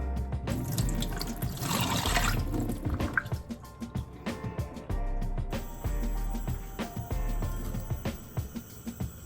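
Raspberries are washed under a running kitchen tap, with close splashing water and some drips and small knocks against a sink or bowl. The flow pauses and resumes in bursts, and no one speaks.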